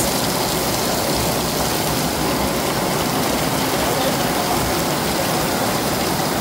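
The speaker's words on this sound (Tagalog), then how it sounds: "Ayan guys, lumalakas na naman ulit yung ulan" Heavy typhoon rain pours down in a dense, unbroken roar of broadband hiss, loud and steady throughout with no pauses.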